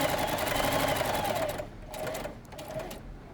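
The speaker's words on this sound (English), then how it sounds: "sew your zigzag stitch all the way around those 3 edges" A sewing machine runs a zigzag stitch along fabric edges of a wine bag, a fast rhythmic whirring that runs steadily, then stops and restarts in two shorter bursts.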